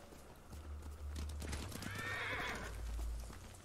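A horse in the video game Ghost of Tsushima whinnies in a rising, wavering neigh amid soft hoof clops and low rumbling.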